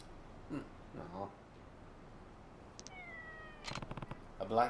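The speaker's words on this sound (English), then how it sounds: "A black cat." A black cat in the Yakuza 3 Remastered video game gives a couple of short meows amid faint speech-like sounds and game effects, including a rising tonal chime near the end.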